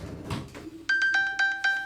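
A phone rings after being triggered by an Apple Watch's find-phone feature: four short, bright, evenly spaced electronic chimes, close and clear, following a quieter stretch of background noise.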